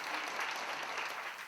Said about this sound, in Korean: 박수 한번 치지.